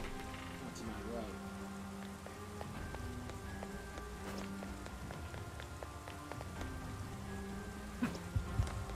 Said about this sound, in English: Is this what they call rain? It just started pouring all of a sudden.